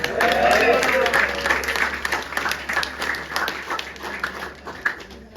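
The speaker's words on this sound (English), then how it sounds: "give me a clap." Clapping from a room of guests at a 50th birthday gathering, strongest at the start and thinning out, with voices talking and a dog barking underneath.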